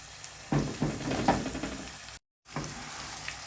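Alexandrian-style liver fries in plenty of oil in a pan with a steady close sizzle, broken by a few scraping stir strokes and knocks. The sound cuts out briefly near the end before the sizzle returns, and no one speaks.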